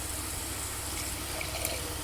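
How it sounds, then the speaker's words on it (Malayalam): A continuous stream of water pours into a pan of prawn roast, a steady close gushing sound with no talking. "കുറച്ചും കൂടി വെള്ളം ഒഴിച്ച് കൊടുക്കാം കേട്ടോ"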